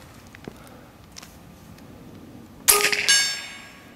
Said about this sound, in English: Well, the gong will make a noise,